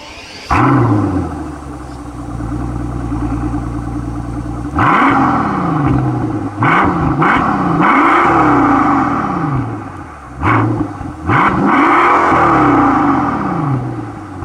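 A warm Mercedes S65 AMG V12 starts and settles into a low idle, then gets several loud blips of the throttle, each rising and falling in pitch, close and alone.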